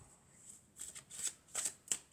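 Tarot cards shuffled by hand at close range, a few quick soft riffling bursts of papery flutter in a quiet room.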